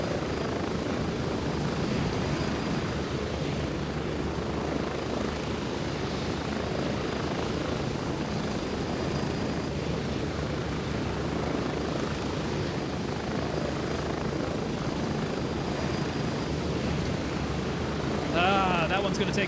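A video game helicopter in Gray Zone Warfare drones on continuously in flight, its steady rotor thump and engine roar filling the whole stretch at a constant, close level.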